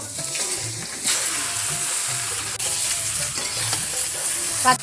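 Ripe mango pieces dropped into hot mustard oil tempered with dried red chilli, bay leaf and spices for a sweet chutney, sizzling loudly and steadily as a spoon scrapes and stirs up close.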